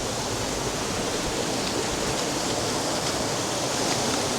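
Stream water rushes steadily at Burbage Bridge near Stanage Edge on a windy day, a close, constant broadband hiss of flowing water with no voices.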